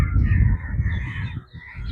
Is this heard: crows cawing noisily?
yes